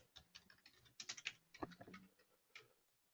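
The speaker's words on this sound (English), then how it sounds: "If I could type properly" Fingers tap out quick irregular bursts on a computer keyboard while entering project information into drawing software, close and fairly quiet, with short pauses between clusters of keystrokes.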